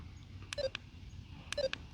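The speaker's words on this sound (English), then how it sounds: "E-collar here, and I'm gonna nick myself one time. You can hear the sound." Two short electronic beep bursts about a second apart from a dog training e-collar's nick setting, each a quick cluster of bright tones, fairly quiet against a low background hum.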